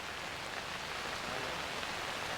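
Rain falls steadily on a roadside in Wayanad, an even, soft hiss of drops with no other sounds over the brief stretch.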